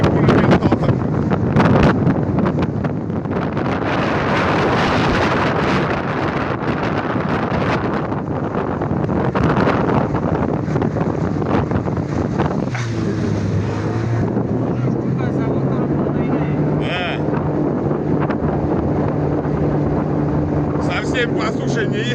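Motorboat on an Yolva 6 tunnel hull with an outboard Tohatsu 18 water-jet engine, running steadily on shallow water with heavy wind buffeting the microphone; a rising engine tone emerges in the second half, with a voice heard over it.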